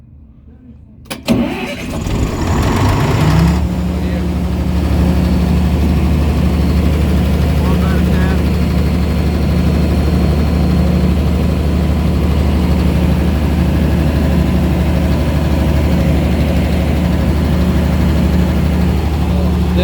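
Scorpion 385 kVA diesel generator from 2004 cranks briefly and catches, then settles into a loud, steady low-pitched idle that runs on unchanged to the end; a voice is heard faintly over the engine.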